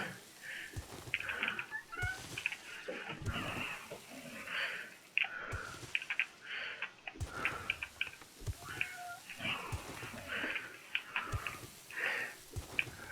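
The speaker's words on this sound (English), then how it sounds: "A little buddy there in the background, you can hear him trying to talk, and my cat." A pet cat meows faintly in the background of a room, several soft repeated calls mixed with game sounds and quiet clicks.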